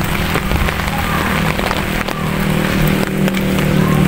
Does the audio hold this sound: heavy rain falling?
yes